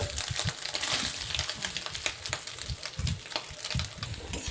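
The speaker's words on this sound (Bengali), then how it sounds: "মা আগে সোয়াবিনগুলো ভালো করে ভেজে নিল" Soybean chunks frying in hot oil for a home-cooked soybean curry, a steady crackling sizzle with dense popping spatters throughout, close and fairly loud, with no talking.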